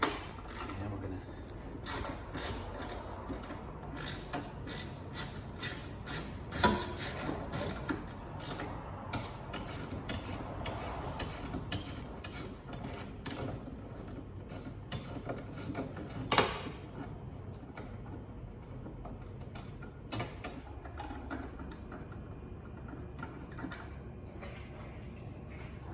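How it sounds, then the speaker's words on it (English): Socket and ratchet working loose 10 mm fasteners on a 2005-2009 Ford Mustang Convertible, a continuous run of close, sharp rapid clicks and mechanical clatter that thins out toward the end. "we'll get our socket and ratchet, and we'll do that right now"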